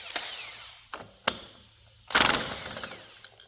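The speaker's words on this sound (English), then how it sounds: "See if that'll help me get this nut off." On a John Deere GX255 mower, a nut is worked loose with a few sharp metallic clicks and knocks, then a brief buzzing ratchet-like burst, all close by with no talk.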